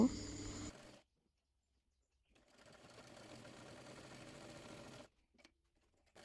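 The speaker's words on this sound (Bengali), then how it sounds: "এরপর চাপ সেলাই দিয়ে নেব" A sewing machine runs in two bursts, briefly and then for about three seconds, stitching a maxi dress with a steady, close mechanical whir and a pause between runs.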